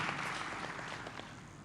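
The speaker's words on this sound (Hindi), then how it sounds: "जोरदार तालियां पहले सवाल के लिए हो जाएं" Audience applause at a scholarship career-guidance event, a brief dense patter of many hands clapping at steady volume with no talk over it.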